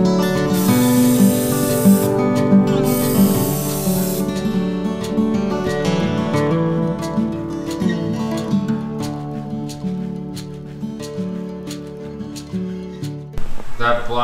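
Plasti Dip hisses from an aerosol spray can in two sustained bursts early on, on a Toyota T100 pickup's grille and wheels, with steady background music.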